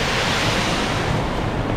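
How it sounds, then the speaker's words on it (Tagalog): Loud, constant rush of a strong, swollen river current after two days of rain, a broad churning roar close to the microphone with no breaks or voices. "Nalakas na po yung tubig oh."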